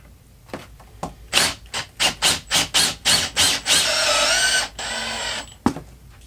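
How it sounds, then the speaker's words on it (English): A power drill with a Phillips bit drives self-tapping screws into pre-drilled holes to fix hinges onto a pool fence gate, giving a series of short whirring bursts in quick rhythm, then one longer continuous run, close and clear. "Now using a standard drill and a Phillips head, I'm going to go ahead and attach my hinges to the gate."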